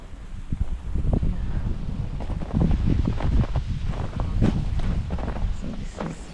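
Cold, breezy wind buffets the microphone on a snowy walk, a steady broadband rush with gusty swells and rustling throughout, loud and continuous with no speech.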